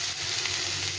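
Potatoes and spices sizzle and fry in hot oil for a fish curry with eggplant, a steady close crackling hiss filling the short stretch without a break.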